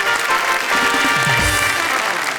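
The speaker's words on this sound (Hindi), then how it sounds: "हम जोरदार तालियों से स्वागत करते हैं इनका।" An audience at a Hindi poetry stage show breaks into loud, dense applause to welcome a guest, a continuous wash of clapping that lasts a couple of seconds.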